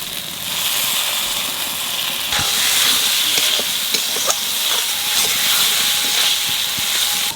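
Spices with turmeric, salt and tomato sizzling loudly in a pan for a country chicken curry, a dense close hiss with scattered stirring clicks and scrapes, continuous throughout with no talk.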